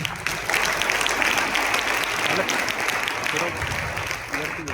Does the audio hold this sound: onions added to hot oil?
no